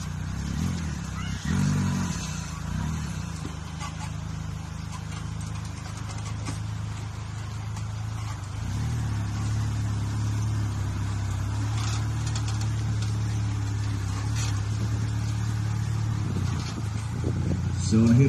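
Off-road trial cars at an offroad trial show at the Hämeenlinna Elo fair in 2023 rumble and rev steadily as they climb over obstacles, a continuous engine drone heard beneath someone talking.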